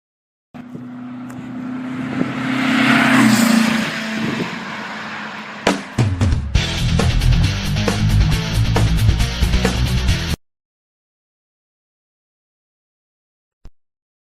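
A 1972 Volkswagen Super Beetle convertible with a transplanted air-cooled engine starts up and runs loud and close, its steady clattering idle holding for about five seconds before cutting off into silence.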